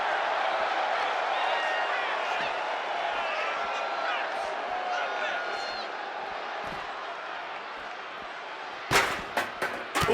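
A continuous crowd roar fills a WWE 2K25 wrestling match, steady and loud throughout, with a few sharp slams and thuds near the end.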